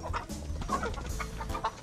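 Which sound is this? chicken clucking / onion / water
chicken clucking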